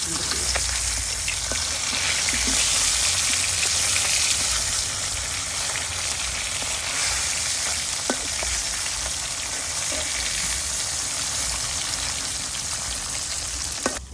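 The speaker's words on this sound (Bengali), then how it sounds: "বন্ধুরা মাছগুলো এক পিঠ হয়ে গেছে তখন আমি উল্টাই দেবো" Native koi fish sizzle steadily as they fry in hot oil in a pan, a dense, continuous crackle that stays loud and close throughout with no voices.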